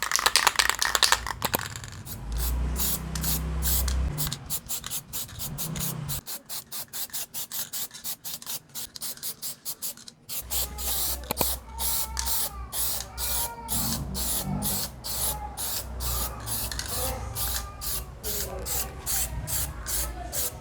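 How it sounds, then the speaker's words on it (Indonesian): Pilox aerosol spray paint hissing out in repeated short bursts as thin coats go onto a scratched surface, with rattling and clicking handling noises between passes and a steady hum underneath. "Jadi bisa disemprot tipis-tipis dulu Mas Bro ya, 3 lapis atau 4 lapis"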